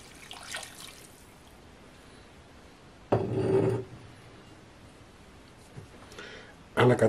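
A spatula works by hand through a wet dough of yeast, olive oil and lukewarm water, giving two short, close, squelching scrapes separated by quiet pauses.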